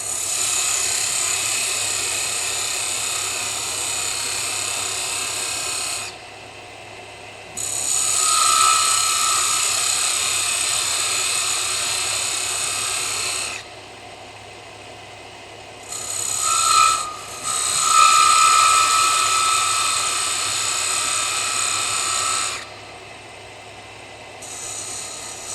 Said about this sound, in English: This is a little parting tool that used to be a joiner knife. Again, it's high-speed steel.